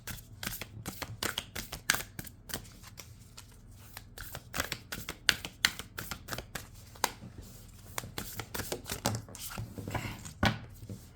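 Tarot cards are shuffled in quick, crisp riffling bursts, a close and fairly quiet run of papery flutters and taps broken by short pauses.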